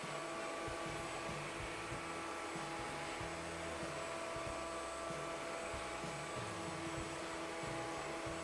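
An iLife V7S Pro robot vacuum cleaner runs steadily with a constant whirring motor hum and broadband airflow hiss, plus faint brushing and rumbling underneath, fairly quiet and continuous throughout.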